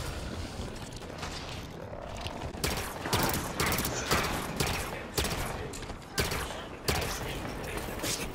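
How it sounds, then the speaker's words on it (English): Soldiers firing weapons in the video game Halo 5: loud repeated bursts of gunfire cracking out in irregular clusters over a steady background rumble of combat. "Soldier firing."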